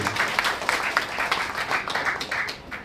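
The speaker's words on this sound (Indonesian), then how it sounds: "Aplaus untuk Cak Iful." An audience applauds Cak Iful, Saiful Hidayat of BPJS Ketenagakerjaan, at a gathering with a mosque community, giving steady dense clapping throughout that fades slightly near the end.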